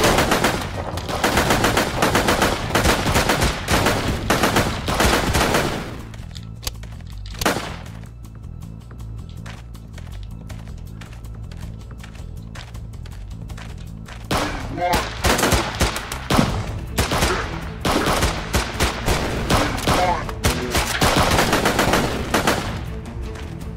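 AK rifle fire in the desert shooter game Cactus Cowboy: loud, rapid automatic bursts in long strings, a quieter pause with scattered single shots, then heavy sustained firing again.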